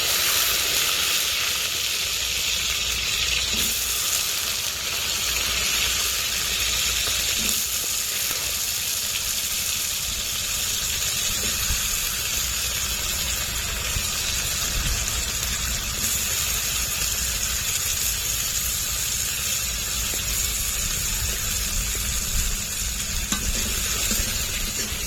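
Taro pieces and whole cumin fry in a pan for a prawn curry, a loud, continuous close sizzle with an underlying low rumble that holds steady throughout, with no talking.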